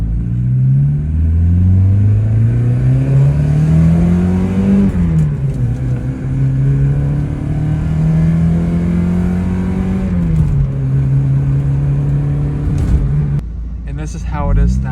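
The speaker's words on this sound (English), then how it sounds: "So here's a little acceleration test with the motor fixed." A 1990 Mazda Miata accelerating at full throttle, its engine note climbing steadily through the gears with brief drops at shifts, loud and close throughout.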